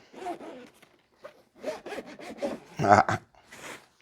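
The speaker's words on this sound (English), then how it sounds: "And then, not one, but two dual zippers." Dual zippers on the carrying case of a Holy Stone HS360 GPS drone are pulled open in a run of short, close, raspy zips with brief pauses between strokes.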